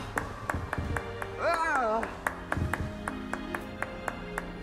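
Steady, evenly spaced claps tick along in the video game Hogwarts Legacy while someone talks, with a brief warbling electronic tone partway through.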